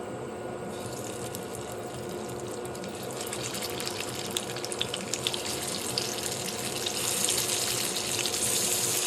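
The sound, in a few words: chicken shami kebabs shallow frying in a pan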